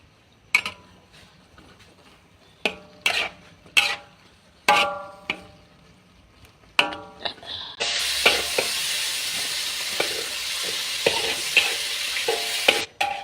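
Shallots stir-fried in a pan: a series of sharp spatula scrapes and clanks, then a loud, steady sizzle from about the middle onward, with stirring knocks over it and no talking.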